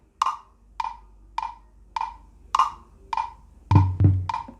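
A GarageBand for iOS stock bongo patch strikes eight evenly spaced, crisp hand-drum hits in an afrobeat session, each with a short ringing decay, the last two carrying a deeper, punchier body.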